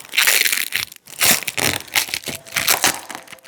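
Protective tape being peeled off a new motorcycle fairing bubble, a close run of crinkly tearing and rustling bursts with brief pauses in between.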